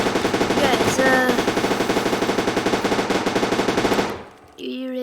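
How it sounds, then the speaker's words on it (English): A mega gun fires in the video game Teardown, a loud and very rapid stream of automatic shots lasting about four seconds. It stops abruptly, and a brief electronic tone follows. "here is a mega gun"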